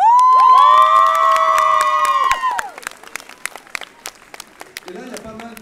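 An audience at a platinum record presentation cheers and shrieks loudly. The roar fades into scattered clapping and a few shouts.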